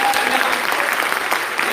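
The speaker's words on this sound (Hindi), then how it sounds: "मेरे भाई छोटे के लिए तालियां हो जाएं" Dense, loud clapping from an audience at a Hindi comedy poetry gathering, continuous and close, filling the brief moment.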